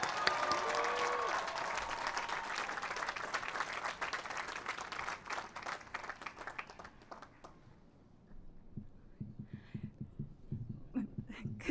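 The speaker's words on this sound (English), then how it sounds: "Please join me in giving them a well-deserved round of applause." A commencement crowd at the USC School of Architecture 2023 ceremony applauds the graduating class, a broad, sustained wash of clapping that gradually dies away, followed by quieter sounds as the hall settles.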